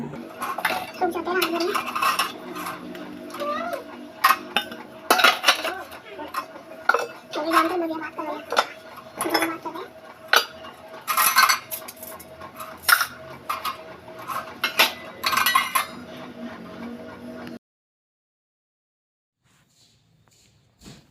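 Washed steel dishes and utensils being put away in a home kitchen, with repeated clinks, clatters and scrapes of metal pots and cutlery in an irregular rhythm, close by, for about seventeen seconds before falling quiet.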